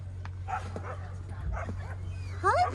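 A dog gives soft whimpers and short yips outdoors after a snowstorm, faint over a low steady hum, ending in a brighter, louder yelping burst.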